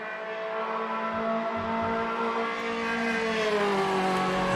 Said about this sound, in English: They do sound good though, the little Beetles.